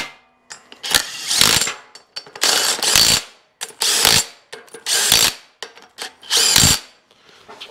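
An impact wrench zapping Torx bolts loose on a small-block engine build, several loud close bursts of rapid hammering rattles separated by short pauses.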